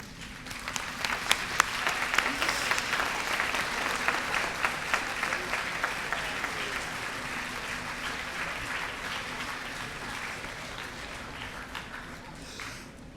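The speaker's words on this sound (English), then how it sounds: "Seniors, please stand at this time and face our audience to applaud" At a 2022 St. Francis High School commencement ceremony, standing graduating seniors applaud the audience in a long, steady round of clapping that is sharp at first and then settles into an even, moderately distant roar.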